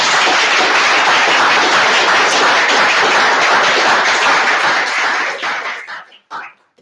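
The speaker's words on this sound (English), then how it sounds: "a big applause for her" An audience at an Azure AI tech talk applauds a speaker with loud, dense clapping that holds steady for about five seconds, then thins out into a few scattered final claps before falling quiet.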